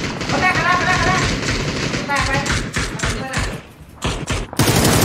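Gunfire in the battle royale video game PUBG: bursts of rapid shots and thumps mixed with game noise, heard under continuous excited voice chat from players.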